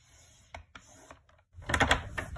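Cut cardstock pieces are scored on a paper trimmer: a few sharp clicks and taps, then a louder, rougher scraping pass of the scoring blade near the end.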